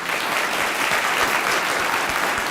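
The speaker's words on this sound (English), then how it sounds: "Please join me in a round of applause for both of them." Sustained audience applause fills a commissioning ceremony for two Air Force officers, a dense, steady wash of many hands clapping with no pauses, close and even in loudness.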